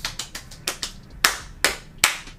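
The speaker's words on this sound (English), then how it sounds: "Round of applause" Several sharp hand claps, loud and close, sound in an uneven burst of about nine hits over two seconds, each crisp and dry with no voices between them.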